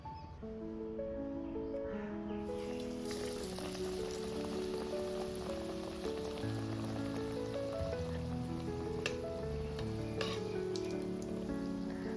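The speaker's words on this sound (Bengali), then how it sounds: "বেগুনিগুলোকে এইভাবে ভেজে নেবো" Beguni, eggplant fritters in gram-flour batter, fry in hot oil with a steady, dense sizzle and crackle like heavy rain, continuing unbroken beneath soft background music.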